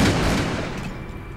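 Gunfire in Call of Cthulhu: Dark Corners of the Earth rings out as a dense, loud burst of shots with booming low rumble, fading slightly, close and without speech.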